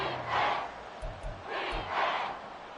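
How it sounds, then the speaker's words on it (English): In an EA Sports football video game, a stadium crowd roars in rising and falling swells, a distant, broad wash of cheering that surges twice. "This crowd turning up the decibel level"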